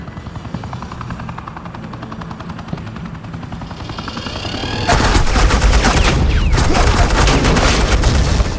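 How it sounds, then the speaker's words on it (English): Gunfire in Batman: The Enemy Within game, suppressing fire laid down over a helicopter's thudding rotor drone, which starts low and steady before a sudden loud, sustained burst of rapid shots takes over. "suppressing fire."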